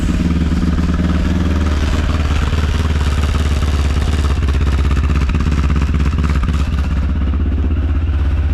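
Engine idling roughly just after starting, a loud continuous low chugging drone with an uneven pulse and a faint metallic rattle from a loose number plate.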